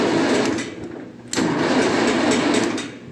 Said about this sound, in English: let's see if the engine will crank.